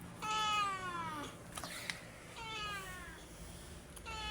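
A hungry cat meows twice, clear and close, with drawn-out wavering cries separated by a brief pause and some faint background noise.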